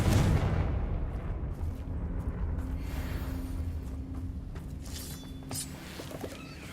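A Confringo spell explosion in the video game Hogwarts Legacy erupts loudly at the start and rumbles down into a long fading roar, with smaller crackling bursts and clinks later.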